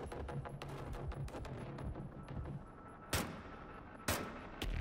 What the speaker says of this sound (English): This thing has a burst fire mode?